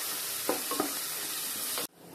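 Onions and green chillies frying in oil with salt and turmeric, stirred in a pan, give a steady close sizzle broken by a few scraping stirs before it cuts off abruptly.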